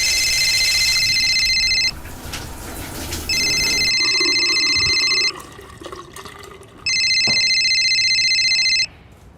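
A telephone rings loudly in a shrill electronic trill, three long bursts separated by short gaps, with faint background noise between rings.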